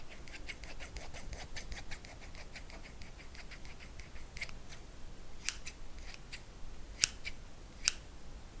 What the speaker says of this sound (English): I'm just going to use my scissors and